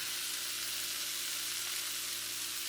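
Green bean and shiitake mushroom stir fry sizzling in a pan as cooking sherry wine goes in, with a loud, steady, close hiss that holds without a break and no talking.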